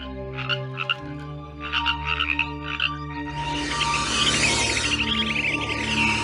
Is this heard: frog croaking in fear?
yes